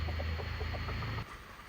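Chickens clucking in Kathmandu, Nepal, with puppies nearby; short clucks repeat over a loud low hum and steady background noise that drops away near the end.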